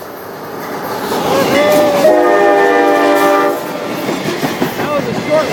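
A CSX freight train rolls past nearby, its horn sounding a long, loud multi-tone blast over the rumble and clatter of the wheels, then the rumble continues after the horn stops.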